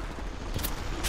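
Gunfire in the mobile battle royale game Apex Legends Mobile, a short dense burst of shots over loud, continuous game noise.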